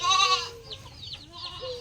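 Goats bleating on a small livestock farm raising goats for breeding: one loud, wavering bleat up front, then softer overlapping calls and a second bleat near the end, with no talk.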